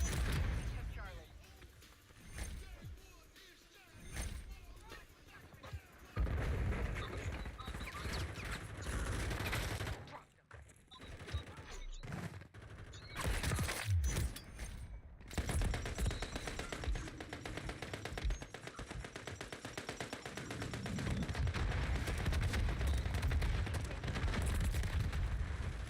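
Rapid gunfire bursts and explosions from the video game Warzone, loud and dense and continuing throughout, with several sharp blasts and brief lulls, under ongoing talk.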